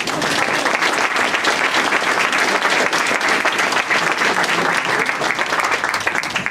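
An audience applauds at a charity cheque presentation to a cancer league, a loud, sustained, dense clapping from a full room that continues without pause.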